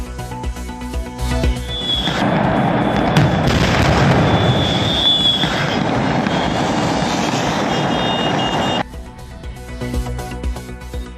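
A dense, sustained crackle of firecrackers bursting rapidly for several seconds during a firecracker factory explosion in Harda, Madhya Pradesh, loud and continuous, before abruptly dropping to a quieter background.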